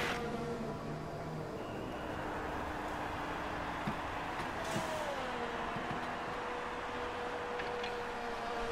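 An F1 car in the F1 2018 racing game rolls into the pit box during qualifying at Abu Dhabi, its engine a faint, steady low hum with a few small ticks and no talk over it.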